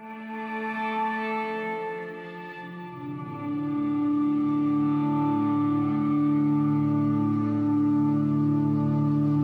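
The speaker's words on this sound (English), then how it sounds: "So the main sound in this section is this Labs cello patch" Labs cello patch playing sustained low chords without effects, starting thin and then filling out with deeper bowed notes that hold steadily, moderately loud and alone.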